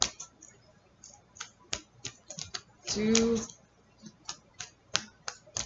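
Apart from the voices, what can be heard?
shuffling a tarot card deck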